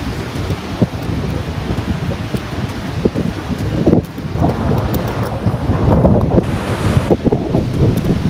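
Steady wind buffets the microphone in a continuous rough rush, with a faint wash of surf underneath and no voices.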